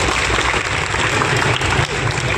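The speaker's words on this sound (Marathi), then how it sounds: "त्याच्यासाठी आपण टाळ्या वाजल्या पाहिजे." A crowd at a public event where a minister inaugurated projects claps together in dense, steady applause, loud and close, filling the whole short stretch without a break.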